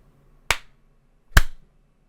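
Two separate sharp hand claps about a second apart, close and crisp, each with a short decaying tail, exchanged over a call as a reaction-timing test. Between them is near silence.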